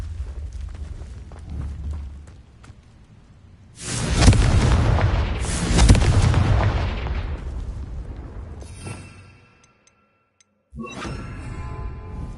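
Two loud, booming fiery blasts from a Confringo spell in Hogwarts Legacy rumble out in succession, followed by a short silence and a fresh burst of crackling fire.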